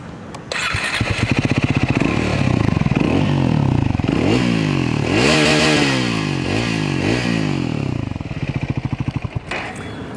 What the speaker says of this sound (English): The exhaust sounds good right off the bat.